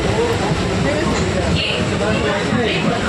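Inside a nearly empty moving passenger train nearing Kalna station, a loud, constant rumble and rattle of the carriage fills the whole stretch, with a voice talking over it.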